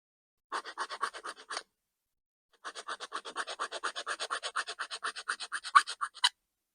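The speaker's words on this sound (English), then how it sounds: "all we're going to do is run the file across this edge" A metal file rasps back and forth across the plastic edge of a Tamiya Subaru Brat RC body's front bumper valance, a burst of about eight quick strokes, a pause, then a long steady run of around twenty-five even strokes, close and clear.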